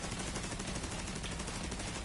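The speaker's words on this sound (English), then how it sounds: "I really like this rifle." Rifle gunfire in the video game Division 2 forms a dense, continuous crackling barrage with no clear gaps, loud and harsh across the whole two seconds, with no talking.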